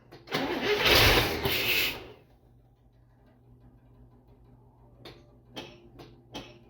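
An International Scout engine cranked on starter fluid: a loud roughly two-second burst of cranking and catching, then a low idle hum with a few sharp clicks and knocks.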